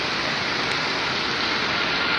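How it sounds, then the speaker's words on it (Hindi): Heavy rain pours down outdoors, a loud, dense, unbroken roar of hiss that holds steady throughout with no voices or other sounds standing out. "तो बहुत ही तेज़ बारिश हो रही है,"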